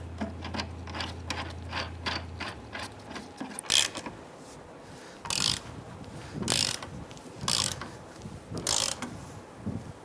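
Ratcheting wrench clicks in short bursts as a nut is tightened onto the rear shock absorber of a 2005-2010 Chrysler 300 during a coil spring replacement, with metallic mechanism sounds between bursts, close and fairly loud.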